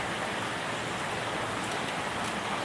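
Heavy morning rain falls in monsoon weather near coconut palms and a mist-covered hill, a dense, even hiss of steady downpour with no pauses.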